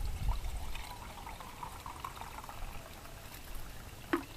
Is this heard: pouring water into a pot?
yes